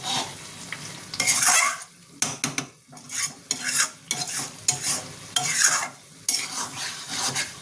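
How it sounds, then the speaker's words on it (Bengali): Mutton bhuna with green chilli stirred and sautéed in a pan, a spoon scraping and clinking in repeated strokes over a continuous close sizzle, with no talking. "দেখুন আমার মাটন ভুনা অলরেডি হয়ে এসছে, আর একটুখানি আমি কষবো।"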